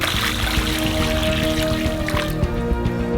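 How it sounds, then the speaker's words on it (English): Four liters of water poured over a large heap of sugar in a big pan on a burner, a continuous splashing, gurgling pour with small drips, close and fairly loud. "Pour 4 liters of water on top."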